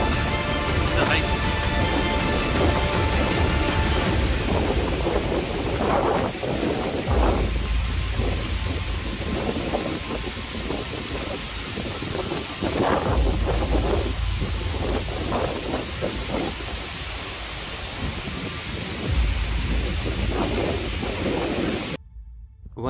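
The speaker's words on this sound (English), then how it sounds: "That's the MUTHYAMDHARA Falls." Muthyamdhara waterfall heard from its base, a loud continuous roar of crashing water with gusty rumbling surges throughout, with a sudden cut at the end.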